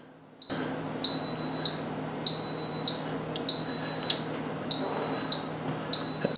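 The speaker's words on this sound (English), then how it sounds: "that is the timer going off to tell you that the pressure cooking has stopped" An Instant Pot pressure cooker timer beeps in a steady series of five evenly spaced, sustained high-pitched tones after pressure cooking Cuban black beans, loud and clear over a low background hum.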